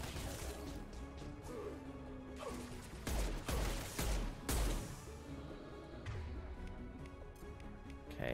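Explosions and gunfire in the Mass Effect 2 game, heavy crashing booms and bursts of shots with combat mechanisms, while a player talks over the action.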